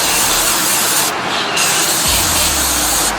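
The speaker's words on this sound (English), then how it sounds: "Just like you're putting spray paint on something" A can of air filter oil hisses loudly and steadily up close as it coats a Yamaha Tri-Z air filter, with brief pauses between bursts.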